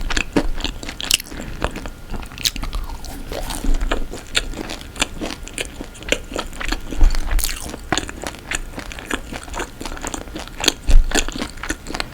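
Close, loud crunching as someone bites and chews a crisp caramelized canelé with a burnt-sugar crust and chewy inside, with repeated sharp crackles and softer chewing between bites.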